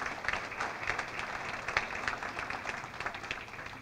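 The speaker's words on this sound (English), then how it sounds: "Please give them a round of applause." Audience at a community fundraising dinner applauding steadily, dense clapping that holds at an even level throughout with no talk over it.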